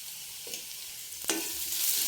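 Upma ingredients sizzle faintly in a pan as a spoon stirs them, with a brief sharp scrape of the utensil against the pan partway through over a quiet, steady frying hiss.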